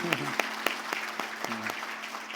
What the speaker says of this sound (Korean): 박수로 우리 한번 환영해 주시죠